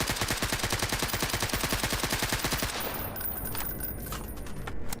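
Rapid full-auto gunfire from a high-recoil weapon in the video game GAMMA, a dense rhythmic stream of shots for nearly three seconds before it stops and tails off, loud and close with no talk.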